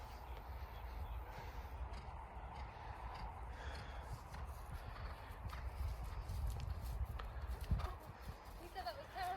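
Hooves of a miniature Shetland horse jumping a small fence at home sound as faint, soft clip-clopping hoofbeats, with people talking over them throughout.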